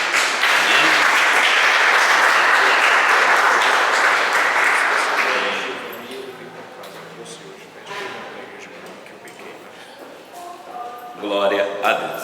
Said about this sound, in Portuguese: Você pode dar uma linda salva de palmas para o Senhor, querido?